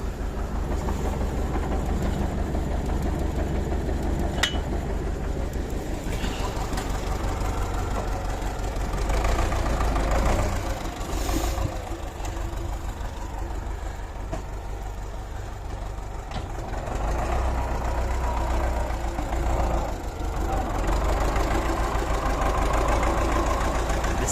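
A CLAAS Dominator 86 combine harvester's engine idles with a loud, steady low rumble and knock, close by, unbroken throughout with slight swells and dips.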